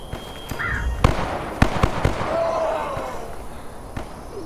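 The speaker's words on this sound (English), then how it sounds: "it sounds like there's a gunfight right up there as well" Distant gunfire echoes across a large open wilderness map in The Day Before, a few sharp separate cracks spaced over a steady ambient background with no talk.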